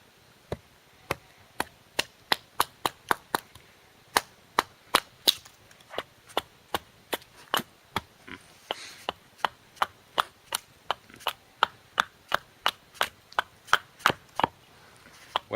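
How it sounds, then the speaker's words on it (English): A Vetterling's axe chops pieces off a wooden blank being shaped into a carved spoon, giving dozens of sharp, crisp, close strikes in a steady, slightly uneven rhythm, each a loud woody crack with quiet gaps between. "So we're chopping off some pieces with the axe"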